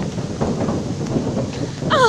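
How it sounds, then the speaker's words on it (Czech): Cars drive over a bridge near a small stream on a hike up Sněžka, producing a deep, continuous thunder-like rumble with a brief higher whine at the very end. "Auta přejížděly přes most."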